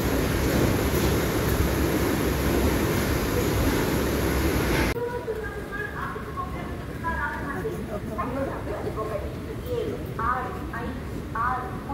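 Tirumala Express pulls out of Rajahmundry station with a loud rushing rumble that suddenly drops to a softer interior clatter. A person talks over the train noise in the second half.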